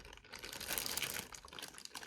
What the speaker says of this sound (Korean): 오염이나 먼지가 묻지 않도록 이런 식으로 비닐 포장이 되어 있습니다